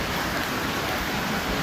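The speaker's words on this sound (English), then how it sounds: "It's coming down so hard that that's what's coming off the roof" Heavy hurricane rain in Jamaica during Hurricane Melissa, pouring hard and running off a roof as a dense, even roar of hiss that stays loud and unbroken throughout.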